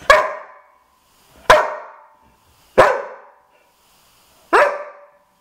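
Dog barking in a Polish film scene: four separate loud, sharp barks spaced about a second or more apart, each one fading out quickly, with near silence between them.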